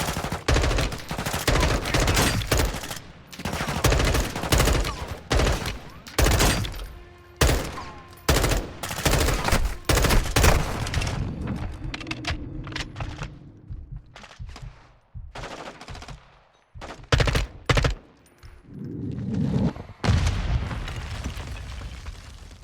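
Rapid bursts of automatic gunfire from a military shooter video game, dense and loud with scattered explosions, clattering in repeated volleys over about twenty seconds, some pauses and a few softer stretches between bursts.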